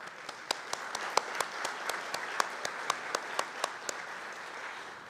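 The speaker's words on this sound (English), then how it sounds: "Join me in a round of applause" Audience applause at an arts brunch: a steady wash of clapping, moderately loud, with a few sharper individual claps standing out at a regular pace throughout.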